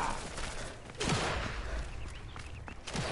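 Gunfire in Sniper Elite 5 cracks out in several scattered bursts over a dense background of game noise, with sharp hits clustering around the middle and end.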